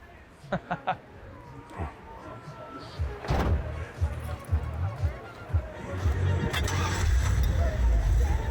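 A classic car engine cranks and catches, then settles into a low, uneven rumble with throbbing pulses, preceded by a few clunks like a door or hood; people talk nearby.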